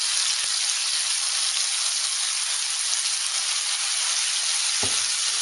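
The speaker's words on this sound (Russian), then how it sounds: "И вот сейчас у нас поджаривается." Pork frying in a pan for a spicy strawberry grill sauce, giving a steady, dense sizzle that holds at an even level throughout with a couple of faint clicks, no voices.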